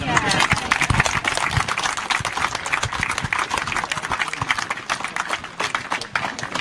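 An audience at the Wings Museum applauds George Dunn in a steady, dense wash of clapping that stays loud and unbroken for several seconds.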